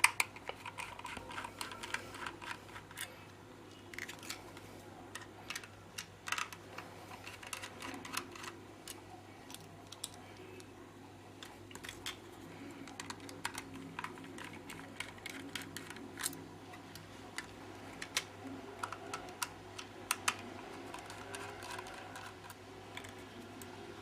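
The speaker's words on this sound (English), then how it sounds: "You have to open the 4 screws." Screws are worked out of a 500 GB Seagate hard drive casing from a Lenovo Y550 laptop, with faint, close, irregular small clicks and ticks of metal over a quiet steady hum.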